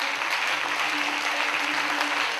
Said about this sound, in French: nous allons applaudir tous ces candidats et tous ces mannequins